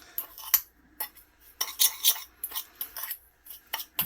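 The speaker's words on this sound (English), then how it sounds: "crush the sugar and the zest of 2 limes together" A spoon scrapes and clinks against a bowl while granulated sugar and lime zest are mixed and crushed together, making irregular short gritty strokes, close and moderately quiet.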